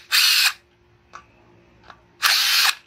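A power drill on a Toro Recycler 22-inch lawn mower whirs in two short, loud, high-pitched bursts about two seconds apart, with faint clicks between them.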